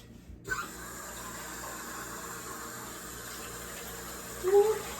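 Water runs steadily from a tap into a measuring cup in a constant hiss, with a brief clunk at the start and a short louder splash near the end.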